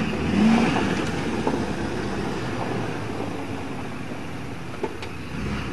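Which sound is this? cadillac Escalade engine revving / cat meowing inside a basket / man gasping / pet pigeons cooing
cadillac Escalade engine revving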